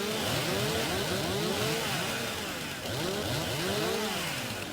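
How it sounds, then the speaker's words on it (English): Stihl chainsaw in Farming Simulator 19 running and revving, a loud buzzing engine sweeping up and down in repeated rising and falling waves, heard alone without talk. "I gotta get the steel because I actually have a steel chainsaw, so I love my steel chainsaw."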